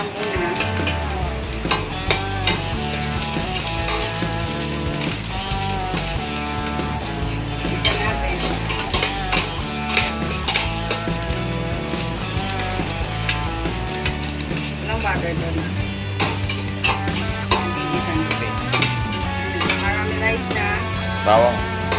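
Onion sautéing in a pan for chop suey sizzles steadily and loudly throughout, with stirring scrapes and clinks of a utensil against the pan layered on top.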